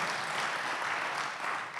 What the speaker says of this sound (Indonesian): Beri tepuk tangan buat nama Tuhan yang luar biasa.